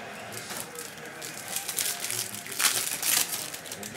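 Foil wrapping of a Topps Stadium Club Chrome baseball card pack crinkles and tears open up close, a few seconds of rustling that swells near the end.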